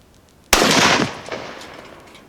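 A single sharp, loud gunshot from a Savage Axis XP bolt-action hunting rifle chambered in .308 Winchester cracks out at an outdoor range, then rolls away in a long fading echo.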